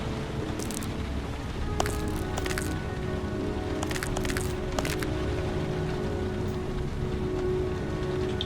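Rain falls steadily, a close, even hiss of drops striking surfaces, with occasional sharper splashes and patters breaking through the constant wash.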